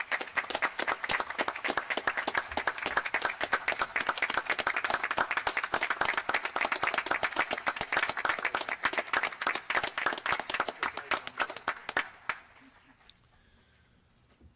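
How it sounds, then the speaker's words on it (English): A crowd at a USS Nautilus 60th anniversary ceremony applauds the Wilkinson family after a flag presentation, with loud, continuous clapping for about twelve seconds that then quickly dies away to near silence. "And let's give them a round of applause as well."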